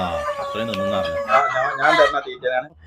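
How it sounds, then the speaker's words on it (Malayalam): Backyard chickens at a home poultry farm cluck close by while a rooster's drawn-out crow rises through the middle, with talk heard among the calls. "അല്ല സുറാത്ത തീറ്റ തിന്നില്ലേ കോഴികള്"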